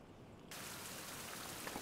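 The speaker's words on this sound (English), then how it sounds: "Raining again." Steady rain falls in the survival video game Fountain of Youth, a dense hiss that swells suddenly and then holds evenly.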